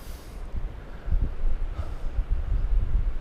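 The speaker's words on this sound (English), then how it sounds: "It's a bit windy up here" Low, gusty wind buffeting the microphone at an exposed spot on the Gower coast, Wales, rumbling steadily and building in strength after the first second, with no voices.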